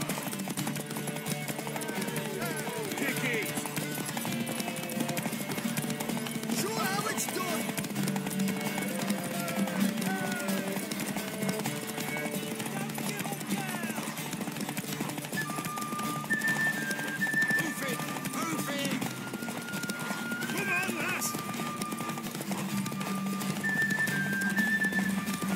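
In the video game The Witcher 3: Wild Hunt, a horse's hooves clop in a fast, steady rhythm over a background music bed, with a horse whinnying at points.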